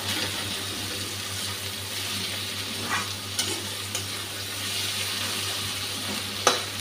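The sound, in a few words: tomato and onion frying together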